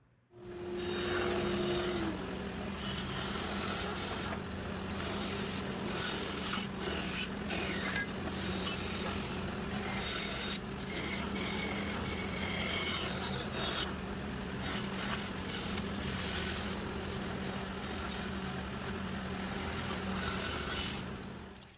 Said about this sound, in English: I can cut the grip on the handle